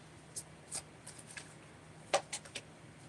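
Tarot cards are shuffled in a few soft, quick riffles and slides, faint and close, with sparse flicks spaced over a couple of seconds.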